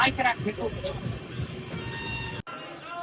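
A crowded passenger train pulling into Agra station on the way back from Sri Hazur Sahib rumbles and clatters steadily, with people talking over it and a sudden brief cut near the end.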